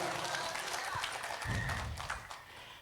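A church congregation applauds during a sermon, a brief burst of scattered hand claps and thuds rising and fading over a few seconds.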